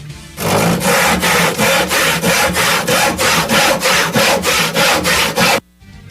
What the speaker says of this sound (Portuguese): Vamos serrar o chifre com... Passa o serrote.